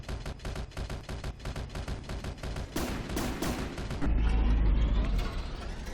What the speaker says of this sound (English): why is this firing at its own ship?